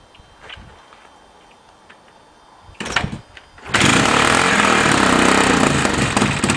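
A 1978 Honda XL 250 motorcycle fired up cold for its first start of the year: quiet shuffling, a brief cranking burst, then the single-cylinder engine catches and runs loud and steady up close.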